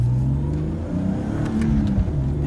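Nissan Skyline R33 GTS25 engine pulling steadily under acceleration while driving, a loud in-car drone with rising tones and faint light clicks, no talk.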